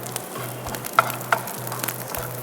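Garlic fries in oil over low heat, giving a soft, steady sizzle with a few small pops, under a faint low hum.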